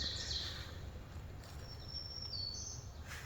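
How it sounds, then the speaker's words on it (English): Birds chattering in the woods at dawn around a campsite, faint thin chirps and whistles scattered through a steady hiss of outdoor background noise. "Awoke to the birds chattering in the woods."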